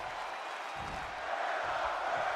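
A video-game arena crowd in WWE 2K25 roars in a broad, steady wash of cheering and chatter, swelling slightly louder partway through, with light applause mixed in.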